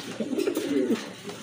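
Pigeons cooing, a pair of racer pigeons giving a single close, soft throaty coo lasting under a second.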